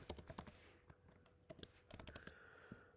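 Keys clatter on a computer keyboard while someone types a short line of PHP code, coming in quick irregular bursts of close, crisp clicks with brief pauses between runs.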